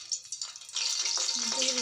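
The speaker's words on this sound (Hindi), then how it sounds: "ये तड़के के लिए मैंने पैन में तेल रख दिया।" A tadka tempering sizzles in hot oil in a pan: a short, bright hiss that swells into a steady crackle after a brief lead-in of light clatter, fairly close.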